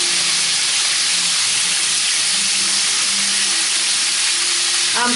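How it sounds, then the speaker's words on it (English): Rabbit pieces dredged in seasoned flour fry in a pan, a continuous loud hiss and sizzle holding steady throughout, with no voices. "I'm frying this until it's brown on one side, and then I'm turning it."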